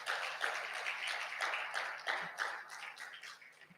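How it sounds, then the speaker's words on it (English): Audience applause at a national reconciliation summit, a dense wash of many hands clapping at moderate volume, steady throughout before tapering slightly at the end. "Let's give him another round of applause, please."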